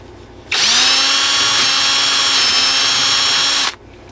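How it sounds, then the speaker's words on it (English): A power drill bores out a rivet hole, spinning up sharply, holding a steady high whine for about three seconds, then stopping abruptly. It is close and loud, with no talk. "we've got to drill out a hole that's going to let this get tight against there"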